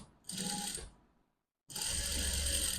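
A sewing machine runs in two short bursts while sewing kaftan fabric, a fast mechanical whir and clatter broken by a brief silent pause, close and moderately quiet.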